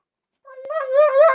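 A puppy whimpers close by: a thin, high, wavering whine that begins after a short silence and rises and swells for about a second, with no talk over it.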